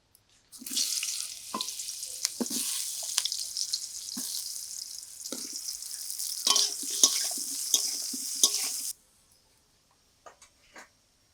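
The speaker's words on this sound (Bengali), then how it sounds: "সবার প্রথমে বেগুনটাকে আগে ভেজে নেব" Brinjal (eggplant) pieces frying in hot oil for a hilsa fish curry, a steady close hiss and sizzle with occasional clatter that cuts off abruptly, followed by a few faint knocks.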